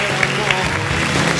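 Studio audience applause on a Spanish-language talk show heading into a commercial break, a short burst of clapping with a voice and some music-like tones mixed in underneath.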